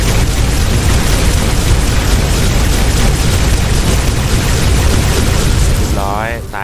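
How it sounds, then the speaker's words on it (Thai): Gun firing in the Minecraft video game during a Siren Head home invasion, heard as a loud, dense and continuous roar of blasts that fades slightly before a voice speaks at the end. "จะขอใช้ปืนที่ไม่ได้ใช้มานานมากแล้วนี่เลยครับยิงเลย"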